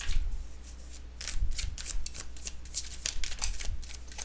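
Tarot cards being shuffled during a pick-a-card reading: a run of crisp riffling and flapping bursts, close and fairly loud, repeating in uneven waves with no talking.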